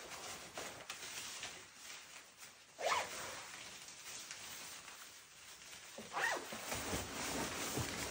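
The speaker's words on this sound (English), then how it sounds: "I'll zip it up." A medium-large Altus rain poncho is zipped up in two quick swishing pulls a few seconds apart, with rustling fabric between them, close and soft.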